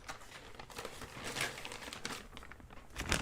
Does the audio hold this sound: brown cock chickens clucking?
no